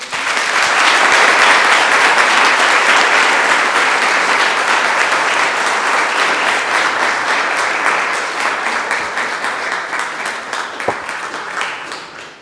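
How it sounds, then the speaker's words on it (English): Conference audience gives a long, loud round of applause, dense clapping sustained throughout and thinning slightly toward the end. "I think that deserves a big, another round of applause."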